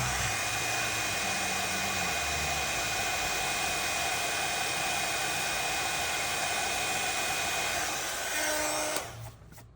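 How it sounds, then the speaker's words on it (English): Heat gun blowing steadily at close range while drying embossing powder on a Halloween card, a loud continuous broadband roar that runs unbroken for about nine seconds and then cuts off abruptly. "I do have the heat gun heating up on the side"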